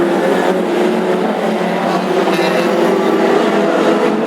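Classic hot rod race cars in a national championship heat at Ipswich, a loud, continuous roar of several engines racing on the oval, steady and dense with no pauses.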